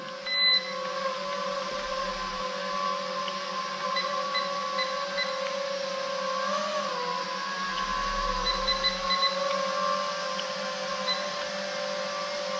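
Motors of an LmRc LM19 drone-style model airplane run steadily at a close, loud whine with sustained tones, one brief pitch dip partway through, no talk over it.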